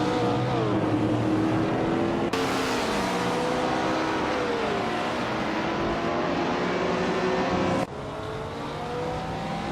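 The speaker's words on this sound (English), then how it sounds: "Bot Mina My Style at 21 is driving a 1970 Chevrolet Camaro in the Group 4 class" A 1970 Chevrolet Camaro in Group 4 runs a video game race, a steady loud engine drone with gear changes and other cars' engines layered close around it.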